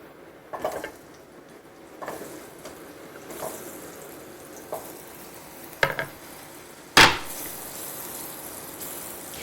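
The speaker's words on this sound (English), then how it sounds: "I'm going to start by stir frying the carrots for a moment." A soft, steady sizzle of carrots stir-frying in a pan, with a few light scrapes and clinks of stirring and one sharper knock near the end.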